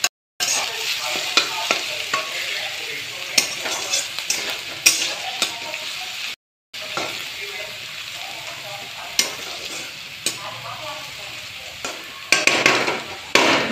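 A snack with turmeric fries in a pan, giving a continuous close sizzle broken by sharp clinks and scrapes of stirring, a brief dropout midway and a louder crackling burst near the end; no voices.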